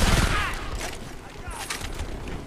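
XM10 rifle firing in Homefront amid a multiplayer battle with a tank nearby, loud bursts of shots opening the moment and more reports following under background voices.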